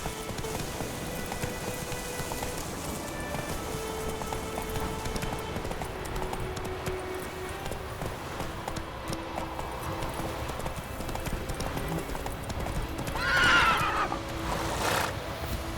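A horse in The Witcher 3 video game trots with steady rhythmic hoofbeats throughout, over a bed of rain-like noise and soft musical tones, and gives a brief whinny near the end.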